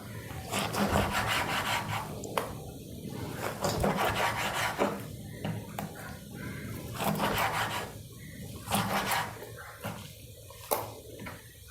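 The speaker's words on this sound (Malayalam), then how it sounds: "ഈ ടൈപ്പിൽ ഞാൻ എല്ലാം കട്ട് ചെയ്ത് മാറ്റുന്നുണ്ട്" A knife works through goat offal being cut up for a fry, giving a series of close, wet scraping and rubbing strokes in irregular bursts throughout, with no talking.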